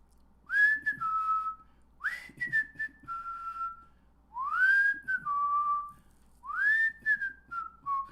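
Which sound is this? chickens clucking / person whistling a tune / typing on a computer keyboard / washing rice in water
person whistling a tune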